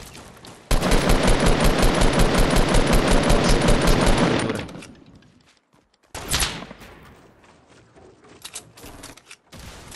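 Fortnite automatic gunfire rattles in a long rapid burst lasting several seconds, then shorter sharp bursts and isolated shots follow after a brief lull, loud and close.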